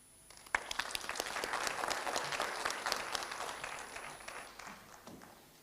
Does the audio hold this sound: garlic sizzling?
no